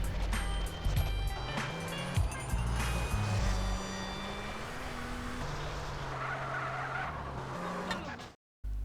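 Cars street racing in the video game GTA San Andreas around Las Venturas, with engines roaring continuously, tires squealing and skidding, and several sharp knocks over nearly nine seconds before a sudden brief cutout at the end.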